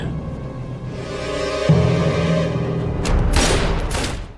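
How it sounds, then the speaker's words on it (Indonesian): Gunfire from a movie scene rings out as a quick burst of loud, sharp cracks near the end, following a dull, heavy rumble. "Semuanya pun panik setelah suara tembakan terdengar."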